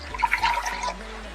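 Three-quarters of a cup of cool water pours briefly into a measuring cup, a soft, close trickle and splash lasting about a second.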